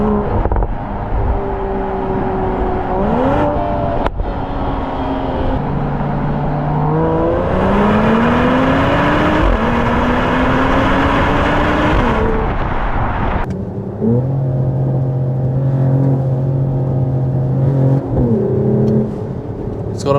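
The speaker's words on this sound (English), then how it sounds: "It's got a nice upshift noise." A 2025 Mercedes-AMG GLE53 hybrid, 544 hp, accelerates hard from inside the cabin, its engine note climbing through several upshifts with brief dips at each gear change, loud and continuous.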